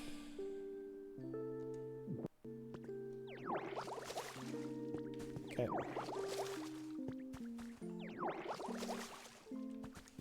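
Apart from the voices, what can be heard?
watering plants in video game Pokopia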